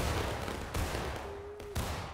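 Muskets fire into the air in War of Rights, a Civil War-era battle game, as a crackling fusillade of overlapping shots bursts out in distinct waves, fairly distant and muffled, with no voices over it.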